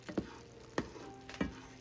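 Butter and sugar bubble in a pan on the stove for a boozy rum cake glaze, with a low steady sizzle broken by a few sharp pops and stirring scrapes close by.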